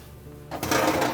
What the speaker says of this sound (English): you can start by opening the door up fully, and we'll remove the racks